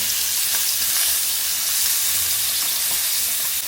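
Salmon fillet sizzles and spits in a hot pan, a steady, loud, dense frying hiss with faint crackles running throughout, no voices over it.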